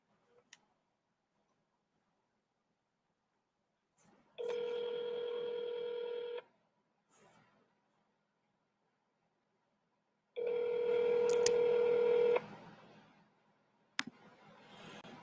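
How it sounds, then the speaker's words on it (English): A telephone rings twice in long electronic bursts about two seconds each, separated by a pause, with faint clicks of dialing before the first ring and a sharp click near the end; no talk. "I'm going to call Tiff"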